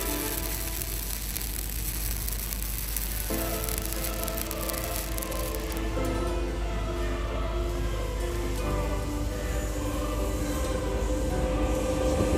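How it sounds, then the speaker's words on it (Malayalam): A train passes below the Mahe railway overbridge on the Thalassery–Mahe bypass, a loud, continuous rolling rumble with steady wheel clatter and high metallic ringing lasting throughout. "ഇപ്പോൾ നമുക്ക് കാണാം താഴെ കൂടി ട്രെയിൻ കടന്നു പോകുന്നതിനാൽ"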